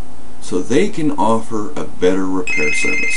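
A telephone rings in an electronic tone that breaks in over a man's speech near the end, sounding clear and close as he keeps talking.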